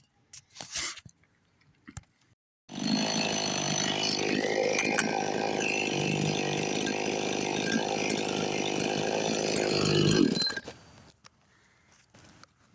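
A cheap $70 Temu two-stroke 52 cc chainsaw starts up and runs loudly and steadily for about eight seconds, its buzzing engine rising slightly before it cuts off, with a few faint knocks before and after.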